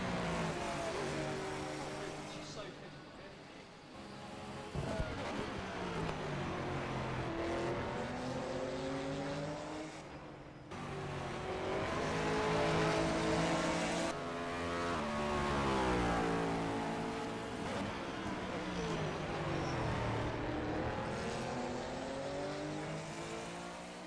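Aston Martin and Porsche race cars battle closely at Interlagos during a three-hour race, their engines roaring loud and sustained, with rising and falling pitch as they accelerate and lift through the corners.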